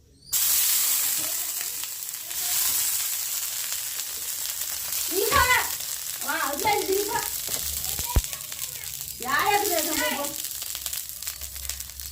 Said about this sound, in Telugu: ఫస్ట్ దోశ వేసుకున్నాం